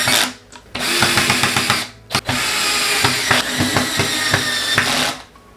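A power drill drives screws into Target bookshelf closet panels, several short whirring bursts with ratcheting clicks, close and loud, separated by brief pauses.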